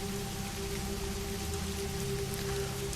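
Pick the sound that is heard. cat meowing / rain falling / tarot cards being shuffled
rain falling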